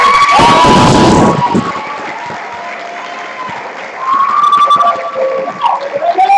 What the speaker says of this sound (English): How about a round of applause for the students already here?